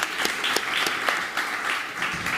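Applause from a conference audience on a summit stage, a dense steady wash of many hands clapping, loud and sustained throughout with a few sharper individual claps standing out.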